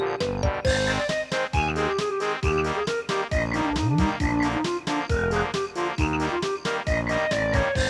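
Frog croaks woven into the bouncy swamp music of the Banjo-Kazooie video game, sounding as quick rhythmic accents that keep time with the dense, loud instrumental track throughout.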